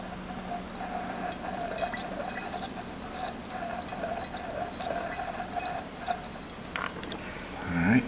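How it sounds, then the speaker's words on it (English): Distilled water is poured down a cylinder of a Lotus Elise engine, a soft, steady trickle and drip close to the mic with a faint hum underneath, swelling slightly toward the end. "I'm going to put some distilled water down the cylinder first."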